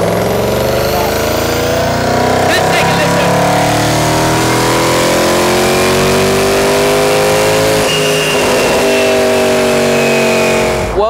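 Mercedes SLS Black Series engine running on a dyno at an outdoor car show, a loud sustained rev with rising and steady tones that fills the whole stretch, a brief dip near the middle and an abrupt cut at the end.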